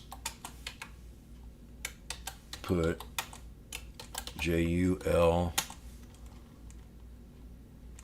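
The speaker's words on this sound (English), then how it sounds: "I'm making sure I'm typing in the right spot here" Quick, close clicks from a computer keyboard come in irregular bursts, broken by stretches where someone speaks briefly over the tapping.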